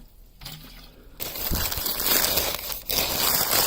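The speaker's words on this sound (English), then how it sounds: "Tie the bag up and place it somewhere out of the way" A plastic compost bag filled with mulched material is handled and tied up, giving loud close crinkling and crumpling that starts after a quiet moment and continues in bursts.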